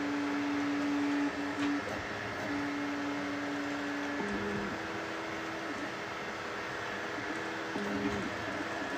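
An Anycubic Kobra 3 or Bambu A1 mini 3D printer runs steadily nearby, its stepper motors giving a sustained tonal whine that shifts pitch in short stepped segments over a constant mechanical hum.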